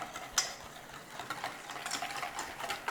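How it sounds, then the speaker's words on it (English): A whisk stirs ranch dressing with black pepper, giving quiet rhythmic clicks and scrapes against the bowl, soft and continuous at close range. "Some black pepper. A whisk in."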